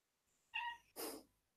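A house cat gives two close meows. The first is tonal and the second is a breathier, noisier cry, both faint against a quiet room.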